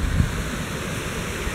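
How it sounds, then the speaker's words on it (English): Steady roar of a waterfall heard from near its top, a broad constant wash of falling water with no pauses, fairly loud and uninterrupted throughout. "There's the top of the waterfall."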